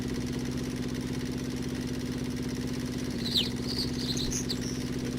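A vehicle engine idles steadily in the video game Landless, a constant throbbing drone throughout, with a few faint bird-like chirps appearing over it partway through.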